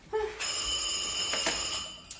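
A telephone rings indoors in a home, a steady bright electronic bell tone holding for about two seconds after a brief lead-in, close and clear with no talking over it.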